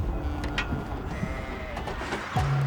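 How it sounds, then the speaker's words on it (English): Sheep aboard a livestock truck let out a couple of loud bleats, one near the start and a longer one at the end, over a low rumbling background. "It's just a stubborn old sheep."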